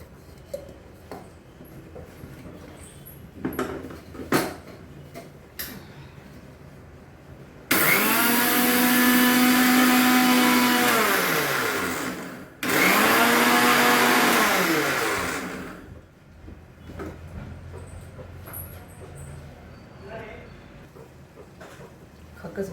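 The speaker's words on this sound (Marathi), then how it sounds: "पहिले आपण मिक्सरला खाकस वाटून घेऊ, बारीक कोरडी." Electric kitchen mixer grinding dry poppy seeds fine, two loud whirring bursts of several seconds each, separated by a brief pause, with quiet kitchen sounds before and after.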